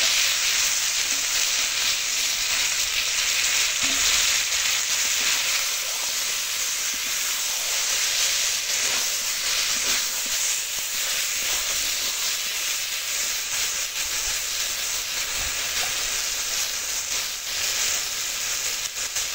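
Ash gourd and boiled mung dal fry in oil with spice paste, giving a continuous, even hiss of sizzling that barely changes through the whole stretch, with no one speaking.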